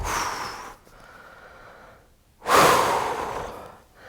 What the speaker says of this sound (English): Deep breathing, it's hard, isn't it?